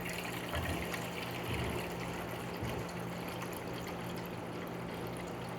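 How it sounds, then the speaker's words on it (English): Tap water runs steadily into a bread tin in a bakery, filling it to the top with a continuous rushing trickle over low background hum, no talking. "We're gonna fill the water all the way to the top"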